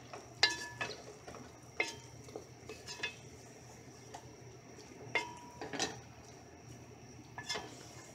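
A spoon stirring simmering soup in a pot, with scattered metallic clinks and scrapes against the pot sides over a soft low background hiss.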